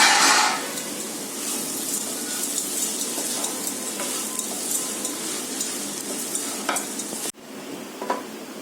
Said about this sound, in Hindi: मैं ये 7-8 मिनट तक इसको मसाले के साथ अच्छे से भून लूंगी।